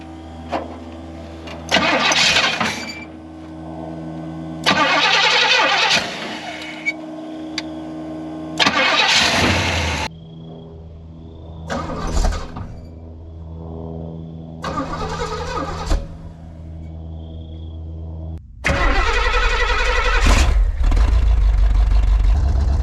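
Pontiac Grand Prix engine, neglected for years in a tow yard, cranked over several times in short bursts before catching and running, loud and close, ending in a steady idle.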